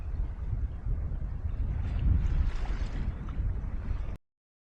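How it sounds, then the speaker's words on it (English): A sailboat runs downwind on Loch Ness, carrying a steady low rush of wind and water past the hull with gentle swells of noise before cutting off abruptly. "Downwind sailing on Loch Ness."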